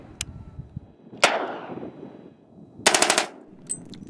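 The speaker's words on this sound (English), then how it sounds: "we all took the opportunity to fire a round or two for posterity" Firearms shot in a remote outdoor location for a sound effects library: a single sharp crack, then a booming shot with a long echoing tail, followed by a quick rapid-fire burst and a fainter last report.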